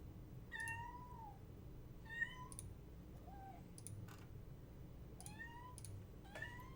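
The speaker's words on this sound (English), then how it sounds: "It's like hiding behind couches and meowing" A hidden house cat meows repeatedly from behind furniture, several rising-and-falling calls spaced a second or so apart over low room hum and faint clicking.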